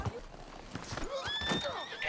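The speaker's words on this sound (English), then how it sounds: "at least my horse is here" A horse in a Wild West video game neighs with a high, wavering whinny that rises over soft hoof clip-clops, close and fairly quiet.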